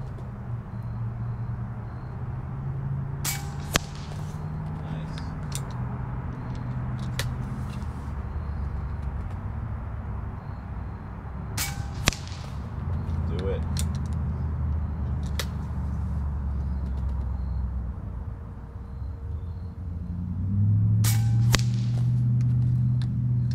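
Five sharp shots from a Daystate Huntsman Revere air rifle fired at a 100-yard target, spaced several seconds apart over a steady low outdoor rumble.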